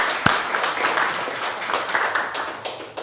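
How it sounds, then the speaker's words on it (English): A small crowd applauds at a village council meeting, with close, fairly loud clapping that starts with a sharp clap and then carries on at a steady, slightly uneven pace. "we owe them a debt of gratitude and an applause to these people that work for us"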